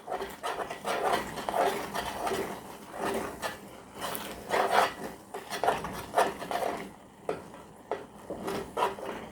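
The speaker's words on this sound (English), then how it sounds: "when you're going to mix all these together" Cheddar broccoli noodles mixed together in a hot pan, with repeated soft scraping and rubbing strokes of a utensil against the pan in an uneven rhythm, close and fairly quiet, no talking.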